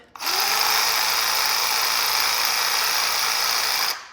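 A RYOBI ONE+ PCL515B cordless reciprocating saw runs steadily at full speed for about four seconds, a loud, even buzzing drone that starts and stops abruptly with no talking over it.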